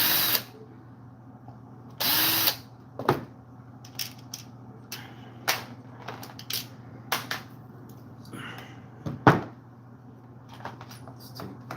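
Power tool removing the handlebar from a chainsaw during a restoration, heard as short separate whirring bursts and clicks with quiet gaps between them, close by, with no talking.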